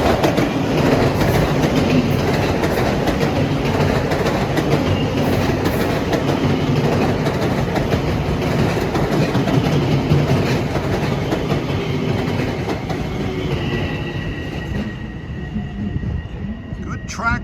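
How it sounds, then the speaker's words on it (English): An LIRR train, number 1553 from Huntington to Penn Station, rumbles steadily as it approaches Mineola Station, a loud continuous roar of wheels on track that eases slightly toward the end. "here comes train 1553, Huntington to Penn Station, approaching Mineola Station."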